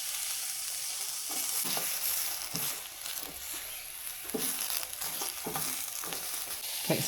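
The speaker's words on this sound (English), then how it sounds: "So 2 white onions cut in half, and we're literally just charring these, getting some color on them" Halved white onions, tomatoes and garlic char in a hot pan, giving a steady sizzle broken by sharp pops and crackles, close and fairly quiet, with no talking.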